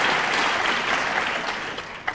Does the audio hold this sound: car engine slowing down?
no